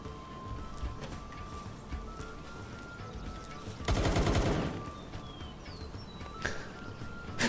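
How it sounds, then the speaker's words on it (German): A shooting hat weapon in the video game Palworld lets off one short, dense burst of rapid gunfire midway, loud over a steady outdoor game ambience with faint bird chirps. "Und mein Hut kann schießen."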